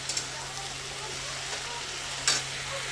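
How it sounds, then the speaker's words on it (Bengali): Leafy greens fry and hiss in a pan with a steady sizzle and a few scraping stirs, the loudest near the end. "এই যে শাকটা ভাজা ভাজা করে নেবো"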